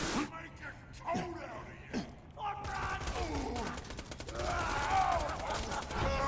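Rapid bursts of shock SMG fire from the video game Borderlands 2, a few separate shots at first and then a denser, sustained volley, with someone talking over the shooting.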